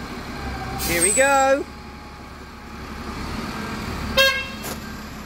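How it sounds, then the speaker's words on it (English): Two short horn beeps from a Stagecoach East Midlands bus, fleet number 18164, working the Pronto service to Mansfield; a longer nearby blast followed by a brief second toot after a pause, over low engine idle. "Beep of the horn."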